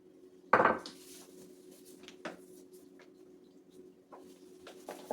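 Measuring cups scooping flour into a mixing bowl, with a sharp knock of a cup against the bowl followed by softer taps and light clatter.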